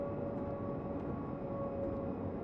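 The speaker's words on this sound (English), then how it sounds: "There's a train coming." A train in Train Simulator 2014 rumbles steadily and fairly loud through the whole stretch, a dense low mechanical drone with a constant whining tone above it and no talk.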